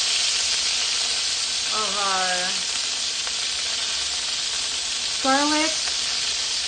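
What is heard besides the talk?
garlic frying in a pan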